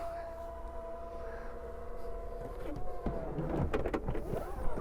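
The power tailgate of a Chery Tiggo 8 SUV struggles to close: a thin electric motor whine runs steadily, then gives way to louder strained clunks and rattling knocks near the end.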